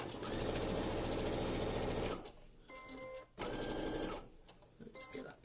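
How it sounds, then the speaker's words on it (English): A domestic sewing machine stitches along the top edge of a fabric needle case, a loud rapid whirring run that stops, then a second run after a pause, with a few faint clicks in the gaps. "I'm going to take it over to the sewing machine again."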